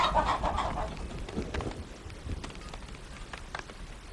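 Chickens clucking in the village game Farthest Frontier, a few scattered soft clucks at a distance over light rain-like ambience and faint game background, no talk.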